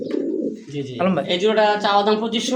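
Racing fancy pigeons coo close by, soft low throaty calls repeating through the clip while someone talks over them.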